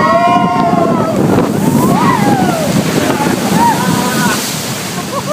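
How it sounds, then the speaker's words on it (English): Splash Mountain log flume ride plunging down its drop, with a loud wash of rushing water and wind over the open boat, riders shrieking and yelling throughout. "We're about to go down this drop"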